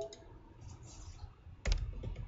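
Typing on a computer keyboard: a few quiet, close clicks of keys, then a short louder burst of keystrokes near the end.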